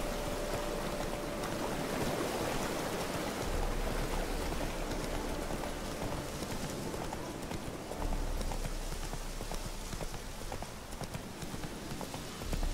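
In The Witcher 3: Hearts of Stone, a horse's hooves clop steadily and rhythmically at close range beside a small waterfall, whose constant rushing water fills the background throughout.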